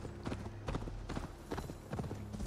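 Horse hooves clip-clop steadily in Assassin's Creed Valhalla, a repeated four-beat trot on hard ground, fairly close and even in loudness, with no speech.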